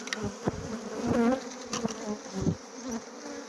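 Honey bees buzzing at a hive frame full of capped brood, a dense, close drone with wavering pitch and several louder passes as single bees fly near.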